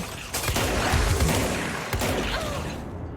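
Enemies fire at the player in the action game Control, inside a strange government building. The shots are loud and come in rapid bursts with sharp impacts and a whooshing projectile, then fade out at the end.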